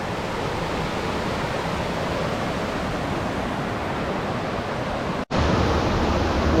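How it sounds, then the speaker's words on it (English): A waterfall on a hike at Pinnacle Mountain roars as a steady, dense rush of water, loud and constant, with one brief dropout before the roar resumes. "Waterfalls just abound on this whole hike, especially in the beginning of it."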